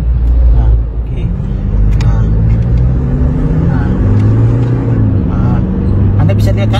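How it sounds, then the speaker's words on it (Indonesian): Toyota Fortuner 2.8 GR Sport diesel, a 2022 model with the 1GD engine, accelerating hard in sport mode, with a loud steady engine drone and road roar inside the cabin while someone talks over it. "kita sekarang kita tancap gas karena posisi mobil sebelum masih kencang"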